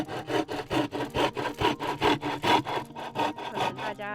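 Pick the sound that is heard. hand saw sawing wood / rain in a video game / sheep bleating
hand saw sawing wood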